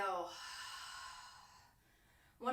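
A long, steady exhale of breath during a yoga class for the neck and shoulders, a soft breathy rush lasting over a second, with a brief voiced sound just before and after.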